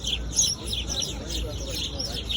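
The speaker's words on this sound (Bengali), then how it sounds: "এই যে ছোট ছোট পাখি কিচমিচ করতেছে," Small sparrows chirp and twitter in quick, overlapping bursts outdoors among flowering plants, with a steady background hum underneath.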